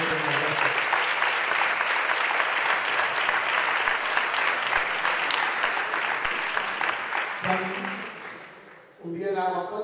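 A concert audience claps loudly and continuously at the end of a show, the dense applause tapering off near the end before a voice begins speaking.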